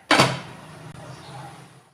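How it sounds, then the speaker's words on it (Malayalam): A lid lands on a cooking pot of water for biryani with a single sharp clatter, followed by a brief ringing decay, close and fairly loud. "ഇനി നമുക്കൊന്ന് അടച്ചു വെച്ച് കൊടുക്കാം."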